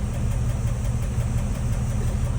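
A 1955 Mercedes car engine idling, a steady low, even rumble that stays constant throughout at close range.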